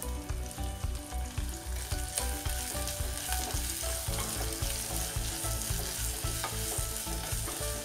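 Sliced shallots join crushed garlic and curry leaves in hot oil for a sundakkai vatha kuzhambu, giving a loud, continuous sizzle with steady rhythmic stirring thumps throughout.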